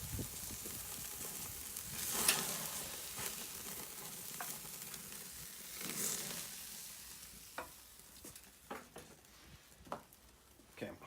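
Eye of ribeye steak searing over a charcoal grill, a soft sizzle that swells twice then fades, followed by scattered clinks and taps of handling, fairly quiet throughout.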